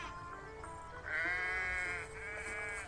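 Sheep bleat by a river, two long, wavering bleats up close, one following the other, above a soft outdoor background.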